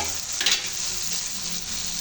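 Tomatoes fry in a hot pan, giving a steady, close hiss of sizzling oil with a few brief stirring scrapes breaking through.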